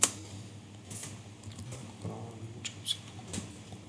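Light clicks from a computer keyboard tap out a short word in a quiet room, a few soft scattered keystrokes close by over faint background hiss.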